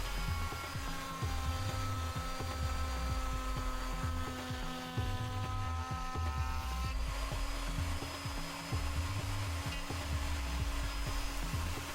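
Router cutting a tenon on an MLCS mortising table, a loud continuous motor whine with a steady droning hum as the wood is fed through, no voices.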